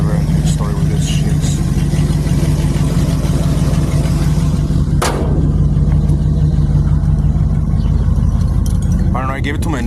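Car engine with a faulty, sticking ignition switch running at a loud, steady idle close by, with someone talking over it and one sharp knock partway through.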